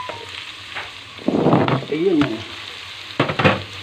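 Sliding potatoes into hot oil in a pan while cooking pork and chicken menudo, a sudden burst of crackling sizzle followed by stirring scrapes, with a short spoken phrase nearby.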